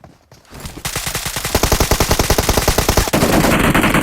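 Rapid automatic gunfire in PUBG Mobile, a short burst followed by a long sustained string of evenly spaced close shots that runs nearly unbroken to the end, loud and with no talk.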